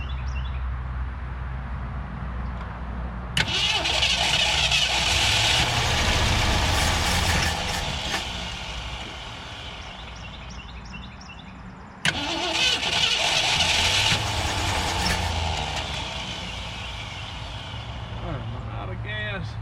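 A 1967 Ford Galaxie 500 with a bent push rod and bad gas cranks and fires twice, each time revving roughly and then fading as it struggles to keep running, close up, with someone talking over it.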